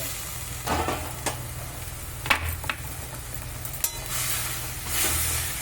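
Chana curry frying in oil in a pan, a soft continuous sizzle with a few sharp clinks and scrapes from stirring, close and moderately loud.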